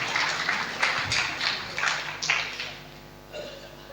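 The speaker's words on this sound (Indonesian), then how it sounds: "Kita berikan tepuk tangan buat Jamila saudaraku." Applause from a church congregation during a service celebrating a baptism, a burst of clapping that rises in several waves and then fades out, with some voices mixed in.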